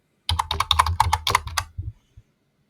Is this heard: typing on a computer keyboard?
yes